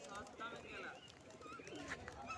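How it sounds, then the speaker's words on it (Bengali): Pigeons in front of the Kapil Muni temple at Gangasagar coo softly and faintly among the birds gathered there, under quiet background voices. "দেখছেন মন্দিরের সামনে কত পায়রা উড়ে বেড়াচ্ছে"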